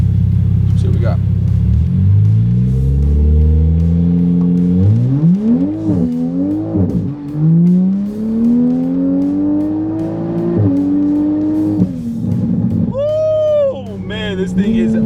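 A tuned Toyota Supra with the B58 engine accelerates hard, its loud exhaust rising through several gear pulls with brief drops between shifts, while someone talks over the engine noise.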